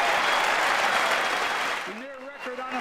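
Audience applause fills the chamber during the 2023 State of the Union address, a dense sustained wash of clapping that fades out as a speaking voice takes over near the end.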